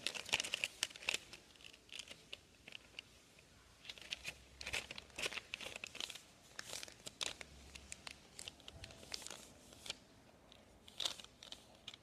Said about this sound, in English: You would want to fold it this way in half.